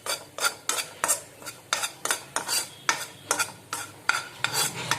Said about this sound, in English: We have to fry the maida till it gets golden brown color.